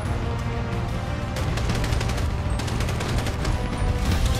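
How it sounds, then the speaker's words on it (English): Rapid gunfire crackles through a Grand Theft Auto V firefight, dense volleys of shots layered over a steady low game background, loud and continuous throughout. "They're shooting."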